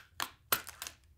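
A stapler clicks through a paper wedding favour pouch in a few quick, sharp, close snaps, isolated against near silence.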